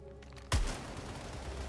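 A single loud gunshot bursts at a junction box in the Suicide Squad video game, followed by a noisy rumbling echo and debris wash after a quiet lead-in.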